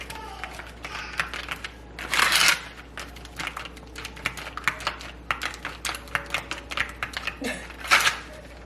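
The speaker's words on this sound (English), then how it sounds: "We're just gonna whisk that up" Egg mixture with cinnamon sugar being whisked in a bowl for French toast: rapid, rhythmic clicking taps of the whisk against the bowl, with a few louder bursts of scraping, close and continuous.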